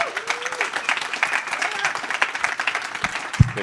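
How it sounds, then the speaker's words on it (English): A conference audience applauds a panel of three leaders at a summit, a moderate round of clapping with an uneven rhythm that carries on steadily before a few thumps close it. "A round of applause for our three leaders."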